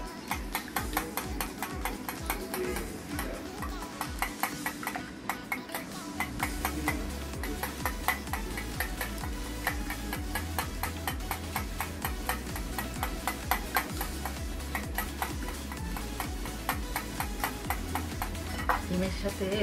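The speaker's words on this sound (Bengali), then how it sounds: "ডিমগুলো এবার ভালো করে কাটি নিচ্ছি।" Eggs are beaten in a bowl for banana pudding, with quick, regular clinking whisk strokes that run steadily over a low background hum.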